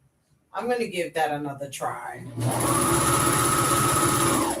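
A home sewing machine starts up and runs in a steady, continuous whir while stitching a Maeve top, after someone speaks briefly at the start.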